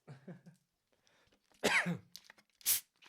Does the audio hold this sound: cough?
yes